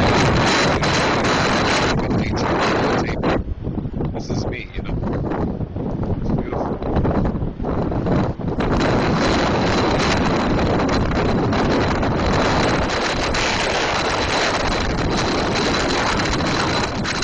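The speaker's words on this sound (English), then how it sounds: "it's really windy out here" Strong wind roars and buffets the microphone outdoors during snowfall in Montreal, a steady loud rush with heavy gusting low rumble throughout.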